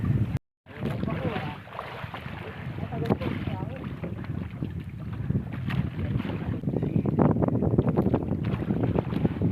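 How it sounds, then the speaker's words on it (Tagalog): Strong sea waves and gusting wind rush loudly and continuously around a small fishing boat off Kapaluhan, Calauag, Quezon, with heavy wind buffeting on the microphone after a brief dropout at the start. "Lakas ang alon."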